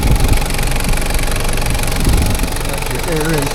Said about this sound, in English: 3-liter turbo diesel